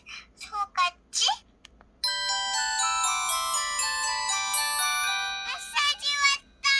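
A Pantech Sky IM-S480 tilt phone plays a bright, chiming melodic ringtone that rings steadily for several seconds after a few short tones. Another short electronic alert sounds near the end.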